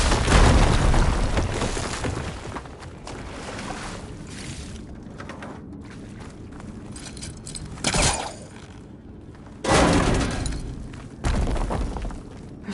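An explosive blast in the video game Horizon Forbidden West, a loud booming burst at the start that decays into a long rumbling tail, followed by several sharper crashes later on with no talk.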